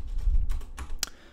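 A computer keyboard is typed on at an awkward angle during a JavaScript coding session. Several quick, close key clicks come in a short irregular burst, the last one sharp and bright.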